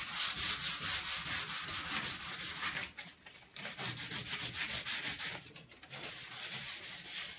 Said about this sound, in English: I've got my 220 grit sandpaper and I'm just going to run it over real quick